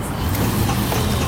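A car engine running with the hood open, knocking from inside, makes a dense, close rumble that stays steady through the short stretch.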